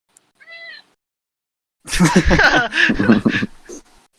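A house cat meows close by, a short thin call followed after a pause by a louder, drawn-out series of meows, with a quiet indoor background between them.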